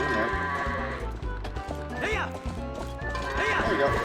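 Goats in Ordon Village in Zelda: Twilight Princess bleat in short, wavering calls over a rhythmic, looping game soundtrack with hoof-like clopping. Two of the bleats stand out clearly.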